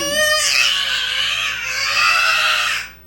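A voice imitates her own scream during surgery in childbirth, with the knife cutting while doctors stand by. The scream is high, loud and close, sustained for nearly three seconds with a slight dip midway before it cuts off.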